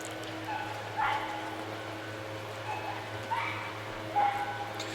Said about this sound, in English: Dogs barking. It's what they do. They bark.